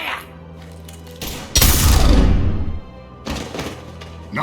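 Mass Effect 3 gunfire: a loud burst of booming shots and a thudding blast that dies away over about two seconds, framed by quieter game ambience and a few sharper impacts before and after.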